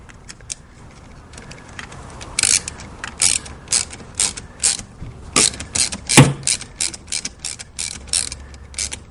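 A hand ratchet fitted with a 10mm socket clicks in quick bursts while installing a CAGS plug on a C6 Corvette, each stroke a rapid run of sharp close pawl clicks separated by short pauses; no one speaks.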